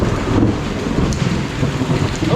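Steady heavy rain roars close by with a deep rumbling undertone of thunder, continuous and loud throughout.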